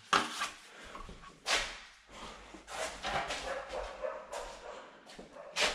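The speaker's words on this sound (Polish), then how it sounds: "Czego tam do mnie szczeka?" A dog gives a few sharp barks at uneven intervals, near and moderately loud, with quieter rustling and handling noises between them and no speech.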